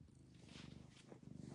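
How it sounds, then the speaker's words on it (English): A house cat purrs steadily and close up, a soft rhythmic rumbling with regular breaths and no other sounds. "He's purring up a storm."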